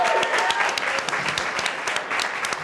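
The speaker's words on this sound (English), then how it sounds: "Round of applause for Andre." Audience applause for a judge at a monologue slam night in Toronto, a steady wash of many hands clapping with some voices mixed in, filling the whole short stretch at moderate loudness.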